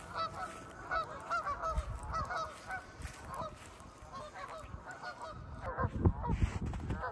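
Geese honk repeatedly and loudly among ducks on a pond, their calls coming in irregular overlapping bursts that grow busier toward the end.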